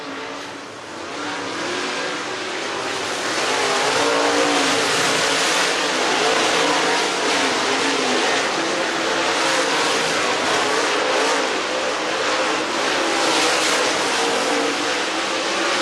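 Dirt race cars at a short track run a hot lap session under green, engines roaring loudly and continuously as the pack circulates, with steady high revs and occasional tire squeal.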